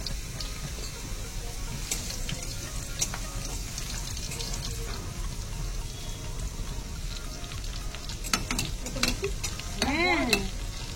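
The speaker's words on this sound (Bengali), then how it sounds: "আলু ভাজা কমপ্লিট। এবার কলাগুলো দিয়ে দিলাম।" Pieces of plantain frying in oil in a home kitchen pan give a steady, close sizzle with scattered stirring clicks and scrapes, rising into brighter crackles near the end.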